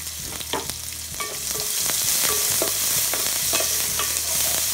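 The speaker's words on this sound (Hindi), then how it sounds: "हमें अनियन को तब तक फ्राई करना है जब तक वो अच्छे से गोल्डन ब्राउन कलर के नहीं हो जाए" Chopped onions with cumin seeds fry in a pan for Punjabi chole, giving a steady sizzle broken by repeated scraping clicks of a spoon stirring, close and fairly loud, with no voices.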